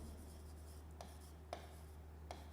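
Pen or chalk writing during a maths lesson gives three short, distinct scratchy strokes spaced about a second apart over a low steady background hum, with no speech.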